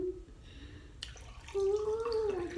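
Water is poured into a container, a soft trickle that turns into a clear tone rising steadily in pitch as the vessel fills, fairly close and quiet.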